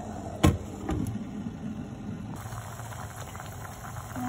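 Rosogolla sweets bubble in sugar syrup on high heat, a low steady boiling rumble with a loud clunk and a couple of knocks near the start, then a continuous simmering hiss.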